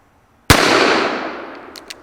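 Single loud .44 Special shot from an old west pistol, a sharp sudden crack followed by a long decaying outdoor echo, with faint clicks near the end.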